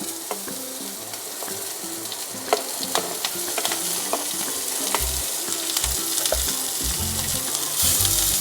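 Chopped capsicum sizzles and crackles in a hot pan alongside carrot, a continuous close frying hiss broken by scattered pops and the clatter of stirring.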